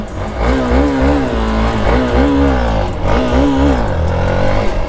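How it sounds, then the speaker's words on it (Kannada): A Hero Xpulse 200 4V motorcycle engine revs hard as the rider accelerates for a wheelie. Loud and close throughout, its pitch climbs and falls in repeated surges. "ಇದು ಟಾರ್ಕ್ ಹೆಂಗಿದೆ ನೋಡೋಣ, ವೀಲಿ ಹೊಡಿಬೋದಾ ನೋಡೋಣ."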